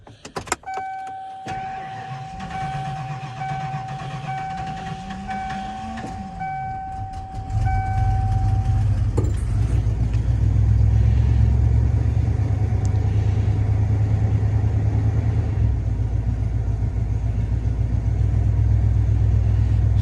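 A high-mileage 1996 Ford engine cranks with a rising and falling whine, then catches and settles into a loud, steady low rumble that runs on close up with no talk.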